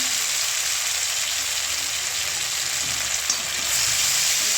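Ginger paste frying with salt in a pan, a loud steady sizzle close by with faint stirring scrapes, no voices.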